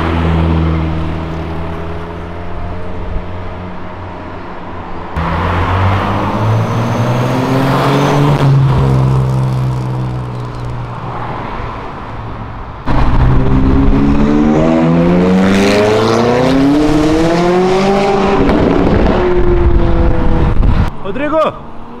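Cars including a Ferrari rev and downshift loudly along Avenida Europa, engine notes rising and falling through blips and gear changes in a continuous roar, with people talking over it.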